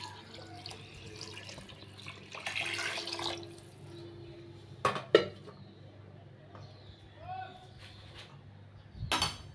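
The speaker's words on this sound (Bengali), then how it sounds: "এখন দিয়ে দিব পানি" Water is poured into a cooking pot that already holds oil, bay leaf and salt, a soft splashing pour among clinks of utensils and pans, with quiet kitchen background noise.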